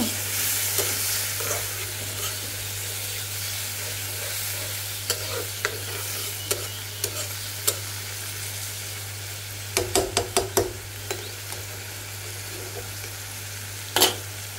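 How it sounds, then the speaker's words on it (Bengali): Potatoes stir-fried in a pan sizzle steadily, while a spoon scrapes and clinks against the metal at irregular moments and a low electrical hum runs underneath; nobody speaks. "এই তো অল্প করে একটু আলু ভাজি করতেছি"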